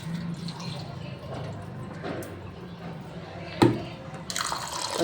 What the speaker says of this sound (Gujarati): મેં 2 પાણીએ ધોઈ નાખ્યા છે.